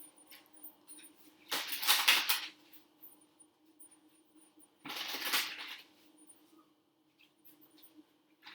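A deck of Law of Attraction cards is shuffled in two short, papery bursts a few seconds apart, fairly close in a quiet room.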